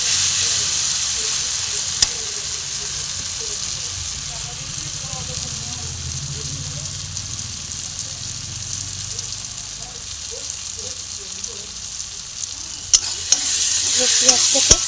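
Onions stirred and sizzling in hot oil for a chicken curry, a steady close frying hiss with spoon scrapes throughout and a few louder clatters near the end, with faint voice in the background.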